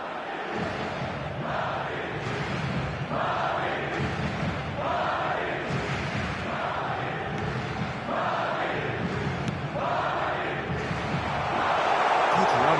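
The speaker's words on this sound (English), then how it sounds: "it certainly got the crowd going" A stadium crowd in the FIFA video game cheers and roars in a steady, moderately loud wash, swelling toward the end, with a commentator talking over it.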